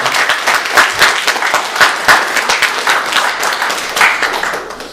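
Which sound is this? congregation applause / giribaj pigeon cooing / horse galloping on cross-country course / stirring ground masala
congregation applause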